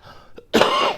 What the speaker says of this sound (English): Excuse me, still trying to get over my cough.